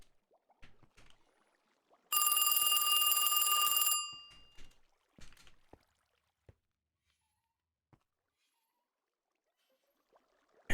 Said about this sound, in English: Maybe it was just the phone ringing.